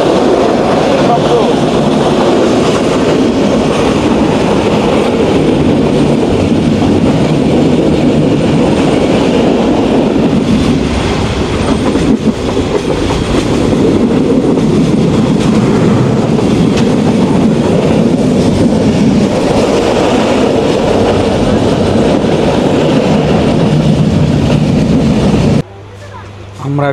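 Jayantika Express on the Dhaka to Sylhet line, a very loud, continuous roar of the running train with clattering wheels and rattling carriages heard from inside, steady for nearly half a minute before cutting off abruptly.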